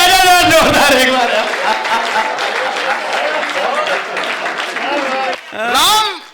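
Enthusiastic audience applause at a Hindi comedy poetry show (hasya kavi sammelan), a loud, dense burst of clapping heard under and between a man's continuing speech, swelling again near the end.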